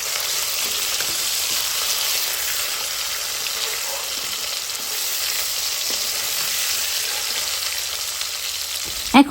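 Fish fries deeply in oil, a dense, even sizzle filling the whole stretch at close range with no talk, ending in a brief clatter.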